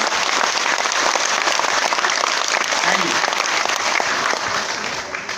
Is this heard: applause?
yes